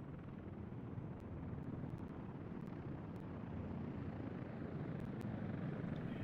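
Helicopters in Workers & Resources: Soviet Republic give a steady low rotor drone and rumble at a constant level throughout, distant and with no speech over it.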